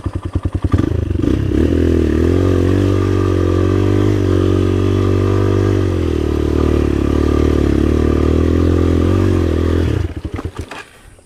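A motorcycle engine running loudly and steadily nearby, a deep throbbing idle held for several seconds before sputtering and clattering at the end.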